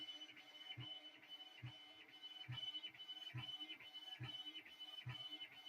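A Creality Ender 3 V3 CoreXZ 3D printer running at high speed gives a steady whirring motor whine with a regular thump at a steady pulse from the moving head, faint and mechanical.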